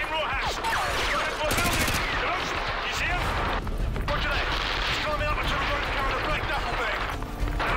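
Continuous dense machine gun fire and scattered shots in a Call of Duty: Modern Warfare 2 (2009) battle, steady and fairly loud throughout, with voices talking over the firing.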